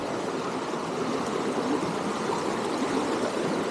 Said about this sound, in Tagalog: Ito yung aming binabaybay na ilog.